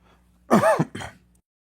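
A single harsh cough with a throaty follow-up, close and loud, against near silence.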